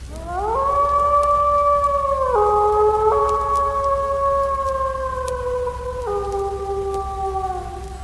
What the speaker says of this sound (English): A wolf goes.